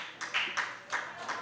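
Scattered applause in a banquet hall at a birthday dinner honoring Park Chung-hee, as a guest stands to be recognized; a handful of soft, uneven claps come at moderate distance, sparse rather than a full ovation.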